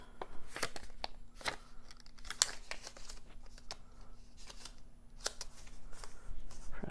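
Vellum paper being creased and folded into a gusseted treat box, giving a run of close crisp crinkles, snaps and rustles at a steady hand-working pace under a faint constant hum.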